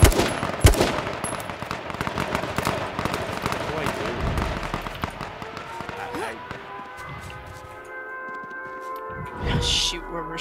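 Dense bursts of video game gunfire in H1Z1 during a 5v5 team fight, rapid automatic shots cracking continuously with overlapping clatter and impacts, loud and busy throughout, tapering slightly near the end with a final louder burst.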